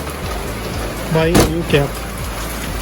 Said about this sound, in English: It's raining, so I cannot work anymore.